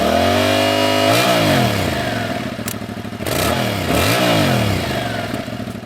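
A Suzuki 650 twin, SV650 or V-Strom 650, runs close and loud, revving up in several quick rising and falling blips between steady running.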